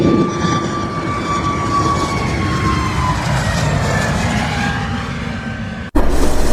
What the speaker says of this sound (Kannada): ಆ ಫ್ಲೈಟ್ ಈಗ ಟೇಕ್ ಆಫ್ ಆಕೈತ್ ನೋಡ್ರಿ.